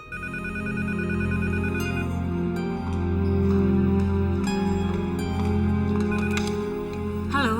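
Telephone bell ringing indoors in an Indonesian TV drama scene, a steady loud ring sustained throughout over a dense music score underneath.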